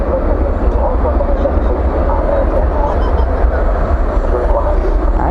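A Boeing 777 airliner thunders down the runway at DFW airport, a broad steady roar heard from a distance outdoors at night, with wind buffeting the microphone and a voice talking over it.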